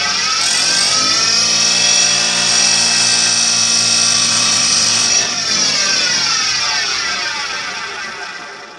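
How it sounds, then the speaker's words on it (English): A bench grinding wheel spins up loud and close with a steady high whine while sharpening a wood chisel, its tone dipping slightly midway, then slowly winds down toward the end. "That allows me to maintain the distance from the grinding wheel, and so I'm going to turn it on"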